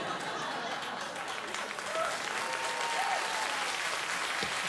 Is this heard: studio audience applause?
yes